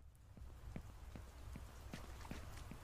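Rain falling in the horror video game Horror Tales: The Wine, a steady soft patter of scattered drops over a low rumbling background, faint and continuous with no talking.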